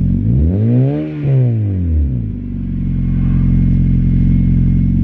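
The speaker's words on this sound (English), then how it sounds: "This exhaust makes good noise." A car engine revs through a Skunk2 Mega Power aftermarket exhaust, climbing and falling twice in loud, close swells before settling into a steady, rumbling idle.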